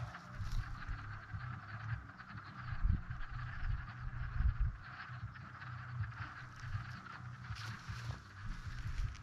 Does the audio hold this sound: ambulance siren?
no